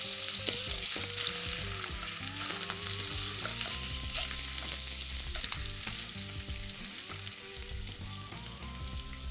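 Thinly sliced potatoes fry in two tablespoons of oil for honey gochujang potatoes, giving a steady, close sizzle and crackle that runs through the whole stretch beneath prominent tonal music.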